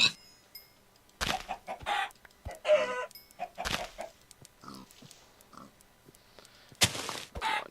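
Minecraft chickens cluck in short, clipped bursts alongside pig grunts and oinks. The sounds come close and fairly loud in irregular spurts separated by quiet gaps, with no talking.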